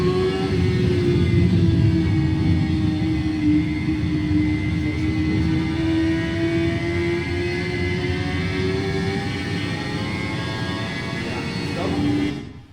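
A Honda CBR1000RR-R SP 2024 superbike screams around the Portimao circuit, its engine note holding a high steady drone as it rises slowly in pitch, then cutting sharply near the end.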